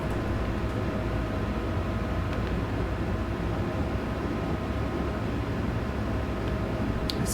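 Cab noise of a DB BR 103 electric locomotive in Train Sim World 3, running Mainz to Koblenz: a loud, unbroken roar of rumble and hiss with a brief metallic clink near the end.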